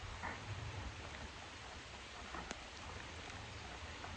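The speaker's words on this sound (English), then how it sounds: "It's raining guys" Rain falling in a backyard garden, a faint, even hiss of drops with occasional sharper taps on nearby surfaces, quiet and continuous.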